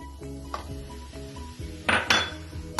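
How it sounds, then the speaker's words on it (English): Mashed boiled potatoes being mixed into masala in a pan for aloo tikki, heard as scraping and clinking of a utensil against cookware, with a few sharper metallic knocks near the end and a steady low hum beneath. "So now as you can see, I am mixing this masala properly."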